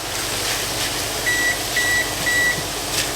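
A kitchen oven signals that preheating is done with three short, high electronic beeps in an even rhythm, heard over a quiet steady hum of the room.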